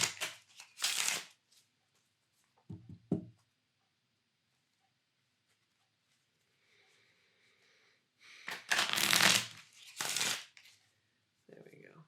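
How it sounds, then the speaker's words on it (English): A deck of playing cards being shuffled in a few loud, close riffling bursts separated by quiet gaps, with soft speech around them. "So we're going to shuffle these up except for the Joker."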